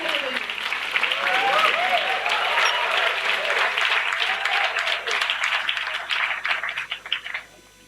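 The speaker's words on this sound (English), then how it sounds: "Put your hands together for the winners." Sustained applause from an audience at an agricultural management competition valedictory ceremony as the winners are called up, steady and full before thinning into a few last claps and fading out, with faint speech beneath.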